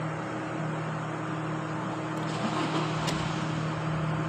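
A 2021 Toyota Hilux engine runs steadily close by with a low, even hum, and a couple of faint brief clicks come partway through.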